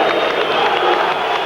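Visiting fans at a Scottish Premier League football match between Aberdeen and Kilmarnock keep up a dense, steady wash of crowd applause and cheering that fills the stadium.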